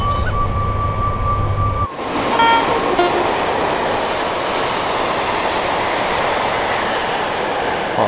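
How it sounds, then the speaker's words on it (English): A Class 86/2 electric locomotive hauls a long train on the West Coast Main Line over Shap, a loud continuous rush and rumble close by, with brief tonal squeals early on. "Quite a long train for an 86."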